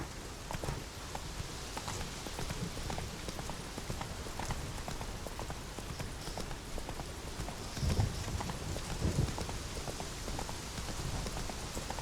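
Hooves of Roach, Geralt's horse in The Witcher 3: Wild Hunt, clip-clop in a steady galloping rhythm at moderate loudness, with rain-like hiss and a couple of heavier thuds along the way.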